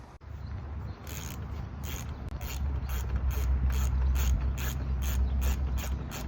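Screws are undone on the bumper of a 2012 Chevrolet Cruze Eco, with a close ratchet clicking in a quick, regular series of a dozen or so strokes over a low background hum.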